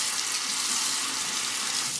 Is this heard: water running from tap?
yes